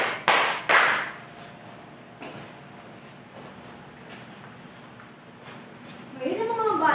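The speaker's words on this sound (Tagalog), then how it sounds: "Maaari nyo bang bigyan ng tatlong palakpak ang inyong mga sarili?" Elementary schoolchildren in a classroom give themselves a quick round of three claps, short sharp group bursts at the start, then the room falls to a faint, quiet background before a voice begins talking.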